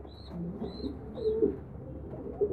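Homing pigeons at a squab auction in Damietta coo softly in low, repeated bursts, with a few high chirps over a faint room background.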